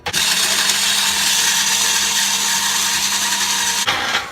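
Blender whirring through roasted cauliflower soup, a loud, steady motor roar running unbroken for about four seconds before cutting out abruptly, close by with no talk.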